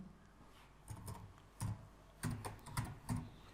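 Code being typed on a computer keyboard: several short bursts of clicking keystrokes, close and fairly quiet, separated by brief pauses, with no speech.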